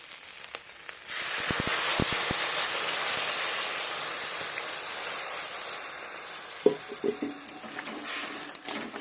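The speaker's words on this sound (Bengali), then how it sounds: "এবার দেবো আমি জল" Water pours into a cooking pot of bean sauce with a steady, hissing rush that starts after a second and runs on, ending with a few close clinks of utensils.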